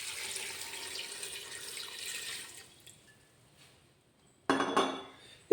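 Water pouring from a measured one-litre container into a pot for homemade pineapple wine, a steady splashing stream for a few seconds, a pause, then a louder burst of pouring near the end.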